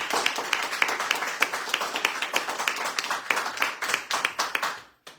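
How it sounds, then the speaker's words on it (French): Scattered audience clapping in a talk-radio bistro setting: a patter of individual hand claps with uneven rhythm, moderately close, easing and thinning toward the end before a brief silence. "on les applaudit"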